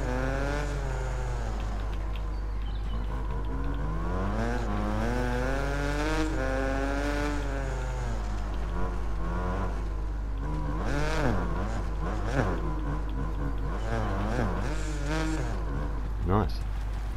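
A CR 250 two-stroke motocross bike riding a lap of an enduro track in the MXGP video game, its engine revving up and down in rising and falling sweeps under continuous talk.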